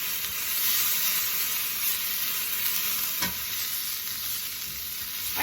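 Peppers and onions fry in a pan with a loud, continuous sizzling hiss that stays even throughout, broken once by a brief stir or scrape.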